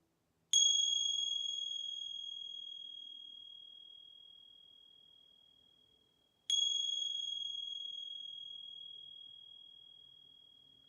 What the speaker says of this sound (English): And then receiving the sounds of the bell.